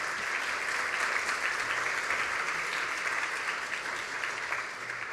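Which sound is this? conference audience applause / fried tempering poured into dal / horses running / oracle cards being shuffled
conference audience applause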